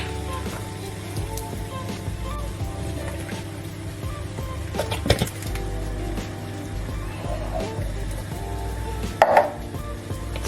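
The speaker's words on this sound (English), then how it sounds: "now to add two cans of diced tomatoes" Two cans of diced tomatoes go into a pot of no-bean chilli con carne, with clunks and knocks of can and pot against a steady low hum, and a sharper scrape or splat near the end.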